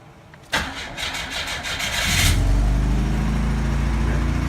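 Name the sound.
1984 Pontiac Fiero Indy engine starting and running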